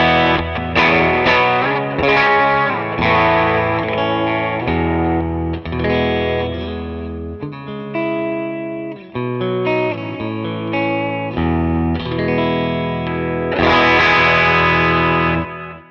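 Electric guitar played through a captured REVV D25 amp with a Creamback speaker on the clean setting, single-coil pickups; sustained chords and melodic runs ring out continuously and loudly, alone without talk.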